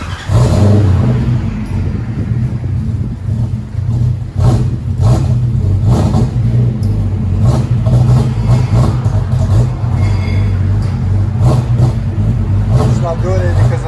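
A Lexus SC 400's 4.0L V8 with straight-pipe exhaust rumbles loudly close by, rising and falling through repeated revs over a steady idle, with people talking over it.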